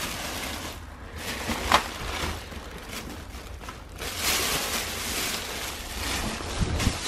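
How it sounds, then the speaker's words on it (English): Wind blows outdoors around a storage auction locker, a continuous rushing roar with gusts that swell and buffet the microphone, growing stronger toward the end. "as the wind picks up"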